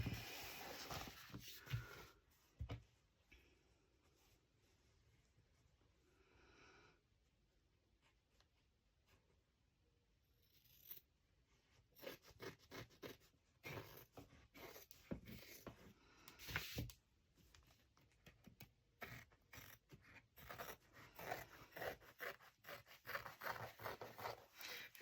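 Scissors snip through 12x12 scrapbook paper for a festive junk journal: a stretch of close, crisp cutting and scraping strokes in quick, uneven bursts, with a quieter pause in the middle and no talking.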